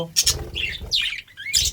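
Adult budgerigars kept in a cage chirping in quick, bright bursts, several overlapping calls close by with short gaps between them.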